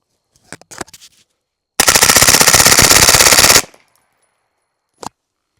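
A suppressed gun fires on full auto, a 35-round burst ripping out as one loud, continuous rapid stream for about two seconds, preceded by a few scattered sharp clicks and followed by a single short knock.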